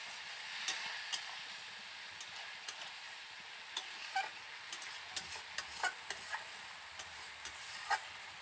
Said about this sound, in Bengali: গরম মশলাটা দিয়ে ভালো করে আমি আবারও কষিয়ে নিচ্ছি।